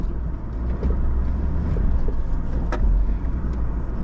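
A 4WD vehicle's engine rumbles low and steady while crawling over moving boulders on the rear locker, a close, continuous drone with occasional knocks and creaks from the rocks, with no talking.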